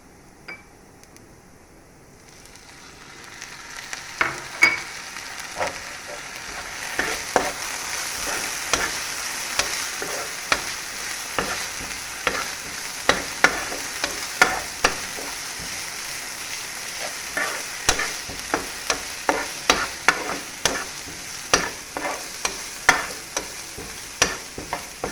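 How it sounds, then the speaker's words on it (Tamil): Onion and ginger garlic paste sauté in a hot pan, a continuous sizzle that builds after a quiet start, punctuated by frequent sharp scrapes and taps of a spatula, close and without speech. "இஞ்சி பூண்டு பச்சை வாசனை போகிற வரைக்கும் வதக்கிக்கோங்க."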